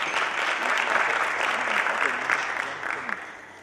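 An audience applauds after a panel debate on venture capital and private equity, a dense, steady clapping from a sizable crowd that holds for several seconds and begins to taper.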